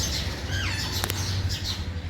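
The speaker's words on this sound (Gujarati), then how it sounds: "વાવ, બહુ બધા પોપટ થઈ ગયા." A flock of six or seven parrots gathered at a family home squawk in a few sharp, rising calls and quick chirps, moderately close over a low steady background hum.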